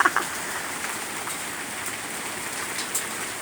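Hail falling on a balcony in a mild downpour: a dense, steady patter of small impacts with a few sharper close hits at the start, fairly quiet and without talk.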